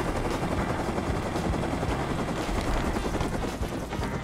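A minicopter in the video game Rust produces a loud, continuous rotor chop with engine whine, heard up close and steady for the whole stretch.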